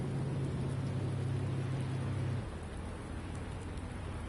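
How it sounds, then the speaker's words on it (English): Heavy rain hisses as a dense, steady wash of noise in a racing video game on the Long Beach street course, with a low engine-like hum that fades partway through and no talk. "With the heavy rain on a street course, we are racing on the streets of Long Beach, and it's heavy rain time."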